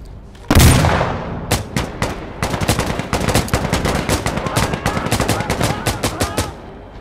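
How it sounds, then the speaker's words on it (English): Dense automatic and single gunfire from the tactical shooter game Insurgency Sandstorm, opening with a loud heavy blast and then rapid, sustained bursts of shots that continue steadily to the end with little pause. "Good bloody shooting, mate."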